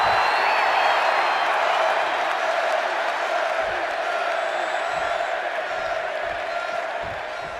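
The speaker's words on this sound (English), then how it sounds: "And just listen to this crowd here in Chicago." Simulated wrestling arena crowd in Chicago in the WWE 2K26 video game, a dense continuous roar of cheering that stays loud and slowly eases, with faint low thumps near the end.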